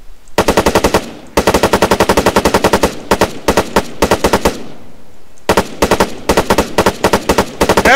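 Video game gunfire sounds as loud, rapid automatic bursts, several long strings of shots broken by short pauses, with no talking.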